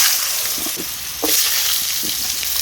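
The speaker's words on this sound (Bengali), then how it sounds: "এবার এই মাছ ভাজা তেলেই আমি আলু দিয়ে দেব" Potatoes dropped into hot oil left over from frying fish sizzle steadily at close range, with a few louder spits and crackles and no talking.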